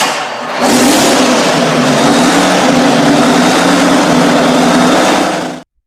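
A Detroit Diesel Series 149 two-stroke engine runs with a loud, close, steady roar. It starts abruptly and holds constant for about five seconds before cutting off.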